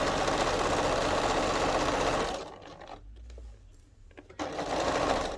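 A sewing machine rattles along the bottom edge of an apron in a fast, loud run, pauses briefly with a soft clunk, then resumes stitching at full speed.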